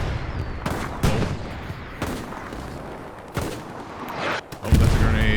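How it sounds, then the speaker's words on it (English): A grenade bursts amid a Hell Let Loose battle, heard as several heavy booms and cracks layered over a constant rumble of distant gunfire and battlefield noise. "oh, that's a grenade"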